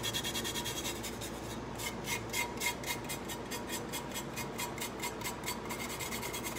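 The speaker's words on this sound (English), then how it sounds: "Because you use Tack-It, you can now rub off your glitter" Steady, rapid rubbing strokes scrub glitter off a Tack-It coated travel mug, a close, continuous rhythmic scratchy friction sound throughout with no talking.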